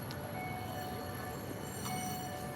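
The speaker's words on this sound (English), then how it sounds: "Yeah, here's the train." A train rolls past in Tokyo's Otsuka neighborhood, a steady rumbling clatter of rail traffic heard from nearby with faint high whines riding over it, continuous and unbroken for the short stretch.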